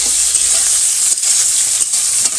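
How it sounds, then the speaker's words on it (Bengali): Steady hissing sizzle of spices frying in hot oil in a wok in a village kitchen, continuous and close, with occasional faint stirring scrapes. "কড়াইতে তেল দিয়ে দিয়েছি"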